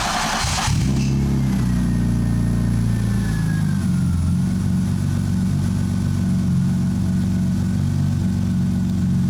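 A BMW E36 engine cranks and catches with a brief rev, then settles into a steady, rumbling idle that continues close by without voices.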